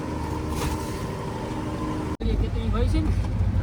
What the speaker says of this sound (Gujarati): જો કેવી બોટ ભગાડા